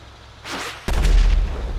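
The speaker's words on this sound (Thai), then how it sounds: "มันเป็นระเบิดเว้ย" A whooshing rise followed by a sudden heavy boom with a deep rumbling tail, a single loud vehicle explosion in GTA V (FiveM roleplay).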